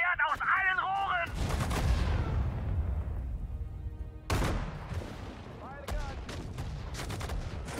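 Artillery and gunfire in the World War II strategy game Sudden Strike 4: loud, dense bursts of shots and booming blasts with sharp attacks near 1.2 and 4.3 seconds, mixed with German unit voice lines.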